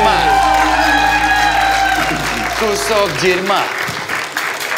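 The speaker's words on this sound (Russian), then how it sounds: "Аплодисменты Кравцу, не круто" A studio audience on the Russian late-night talk show applauds and cheers, a loud, dense wash of clapping that starts at full strength and gradually thins, with a voice speaking over it.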